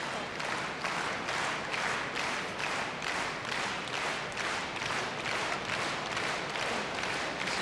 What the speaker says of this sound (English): the rhythmic applause